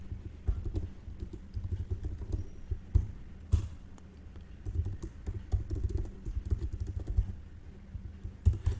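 Computer keyboard keys clatter in quick irregular bursts as code is typed, close and crisp, with short pauses between runs of keystrokes.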